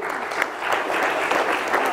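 An audience in a hall claps steadily at a spelling dictation event, with dense, continuous applause that is close and loud throughout.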